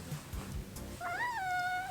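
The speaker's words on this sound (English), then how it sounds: "my cat is crying." A cat cries with a single drawn-out meow that rises and then falls, fairly close and moderately loud, following a moment of quiet rustling room noise.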